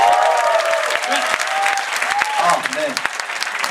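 Applause and cheering fill the room at a funk dance battle judge show in Korea, loud and close, with someone speaking briefly over the clapping.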